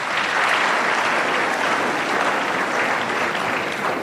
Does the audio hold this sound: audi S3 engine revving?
no